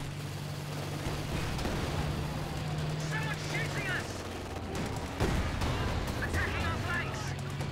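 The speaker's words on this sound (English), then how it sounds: "Someone's shooting us!" Company of Heroes 2 battle gunfire, bursts of rattling shots and distant booms under a rumbling vehicle drone, with excited voices talking over the fighting.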